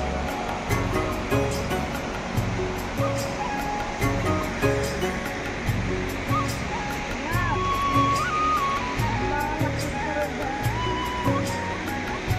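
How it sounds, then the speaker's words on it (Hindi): A large waterfall, Dangari Waterfall in Jashpur, Chhattisgarh, gives a continuous heavy roar of falling water, with people's voices faintly mixed in. "बहुत बड़ा झरना है।"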